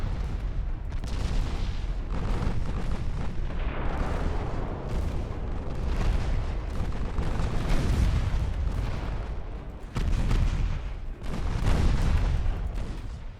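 Naval battle in the warship game Ultimate Admiral: Dreadnoughts, with heavy guns and shell explosions booming repeatedly in dense, rumbling volleys that rarely let up, loud and close throughout.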